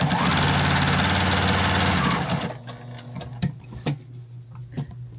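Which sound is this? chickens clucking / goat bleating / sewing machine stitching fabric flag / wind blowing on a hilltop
sewing machine stitching fabric flag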